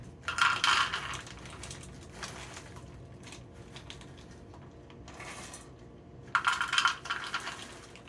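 Pecans poured into sweet pie filling patter and clatter in two short, bright bursts, several seconds apart, with quieter scattered ticks between them.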